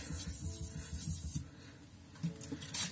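A steel knife bevel scrapes in quick, rhythmic back-and-forth strokes across a wet sharpening stone, a soft close rubbing that thins out midway before a few more strokes.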